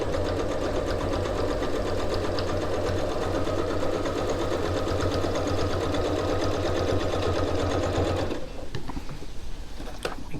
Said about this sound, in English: Locking stitches and continue sewing.